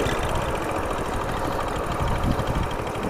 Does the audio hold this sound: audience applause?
no